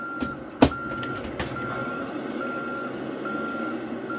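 Reversing beeps from a truck in a trucking video game sound as a steady, evenly spaced run of thin electronic tones. A louder thump comes early on, over a low rumble of engine noise, with no voices.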